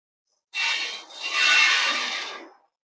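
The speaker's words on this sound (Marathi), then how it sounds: "याच पद्धतीने मी परत राहिलेली बडीशोप आहे अशीच ही भाजून घेणार आहे" Dry fennel seeds (badishep) stirred and rasping in a hot pan as they roast, a steady close scraping rustle that runs about two seconds with a brief dip partway, no voices.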